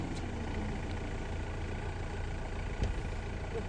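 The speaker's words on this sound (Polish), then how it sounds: "bo ten silnik bardzo hałasuje" A steady low engine rumble idles throughout, loud and close, with a brief knock near the end.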